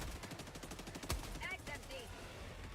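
A sickle weapon fires in a co-op shooter, a rapid stream of repeated shots that pulse evenly throughout, with a sharper impact near the middle and some faint chatter underneath.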